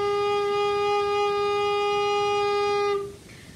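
A recorder played with very relaxed, tension-free lips holds one steady, soft-edged note with a bright stack of overtones for about three seconds, then stops abruptly, leaving faint room tone.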